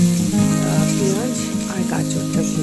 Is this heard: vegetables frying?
yes